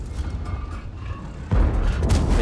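A US T110E5 heavy tank gun fires once midway through a tank battle game, a sudden deep boom that swells into a loud, sustained low rumble over the steady engine and battle background.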